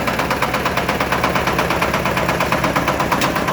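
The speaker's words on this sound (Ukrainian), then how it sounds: "Одноциліндровий ремінний трактор." A small single-cylinder belt-driven engine on a Shifeng SF-350L mini tractor idles steadily with a fast, even knocking rhythm and mechanical rattle, loud and close, with no voices.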